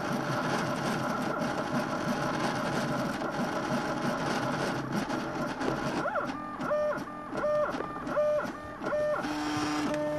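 A Mendel90 3D printer running Marlin firmware prints a 20mm test cube, its stepper motors whining in steady buzzing tones that shift into a rhythmic pattern of repeated rising and falling pitches as the top layers fill in, close and continuous.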